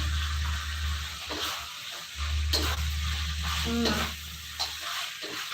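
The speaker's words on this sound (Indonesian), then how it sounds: "Nah ini kalau udah tercampur rata, tinggal campurin aja si jengkol yang udah digoreng." Fried jengkol beans are stirred into green chili sambal in a pan, with a constant sizzle and fry broken up by scraping, clinking stirring strokes at close range.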